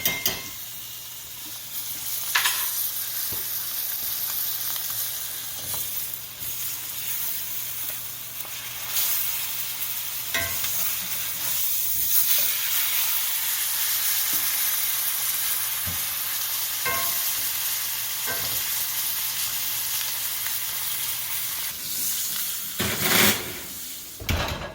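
A steak sizzles loudly and continuously in a hot pan while it is basted, with scattered clicks and scrapes of utensils over the hiss.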